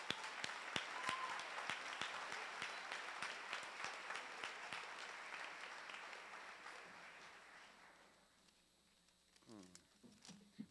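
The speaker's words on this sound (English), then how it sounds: "How about a round of applause for the wonderful public speakers we've had today?" A middle school graduation audience applauds with steady clapping, some sharp close claps standing out, tapering off over several seconds before a voice begins speaking.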